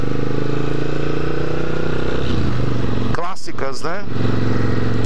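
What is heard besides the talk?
motorcycle engine running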